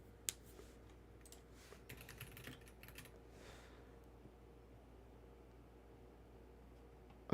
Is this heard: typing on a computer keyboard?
yes